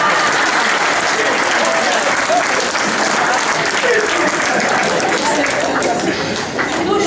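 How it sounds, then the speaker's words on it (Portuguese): Sustained audience applause fills a Cabo Verdean community meeting held by the MpD-IT party in Italy, steady and dense from start to finish, with scattered voices mixed beneath the clapping. "Só dá um aplauso"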